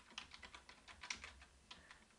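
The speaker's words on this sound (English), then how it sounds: "And I'm typing in here." Typing on a computer keyboard: a quick, uneven run of light, close key clicks, fairly faint, with no voices.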